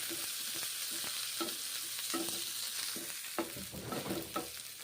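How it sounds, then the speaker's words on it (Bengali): Sliced onions fry in a pan, browning until reddish, with a constant sizzle. A spatula scrapes and stirs in a busy, irregular rhythm close by. "একটু লাল লাল করে পেঁয়াজগুলো ভেজে নিতে হবে"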